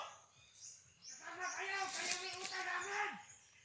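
Small bird chirps a few times in quick high tweets over a quiet outdoor background, with people talking nearby at the same time.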